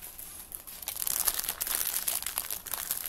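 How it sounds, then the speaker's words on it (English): Diamond Dotz diamond-painting kit packaging crinkles continuously up close, a dense papery rustle that swells after the first second and keeps going with no voices. "Again, with the crinkling."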